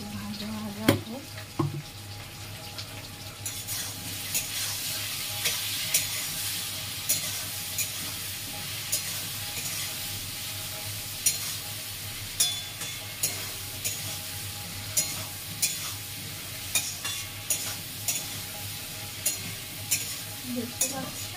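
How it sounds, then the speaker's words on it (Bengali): Food fries with a steady sizzle in a pan in a home kitchen, while a spatula scrapes and stirs in regular close knocks about once a second throughout; a brief voice appears at the start. "ভাজা ভাজা হোক"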